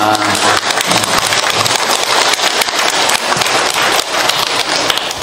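Lecture audience claps together in a hall, a dense, steady, loud patter of many hands that fills the whole stretch without pause.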